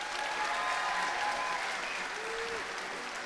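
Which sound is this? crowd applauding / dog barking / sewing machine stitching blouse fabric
crowd applauding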